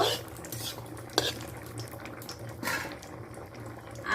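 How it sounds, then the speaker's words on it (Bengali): Bay leaves and dry red chillies stirred in hot oil for a tempering, with a soft steady scrape of a spoon against the pan and a couple of sharper metallic knocks over a low hum. "এটাকে একটু ভালো করে ফোড়নটাকে নেড়ে নেব"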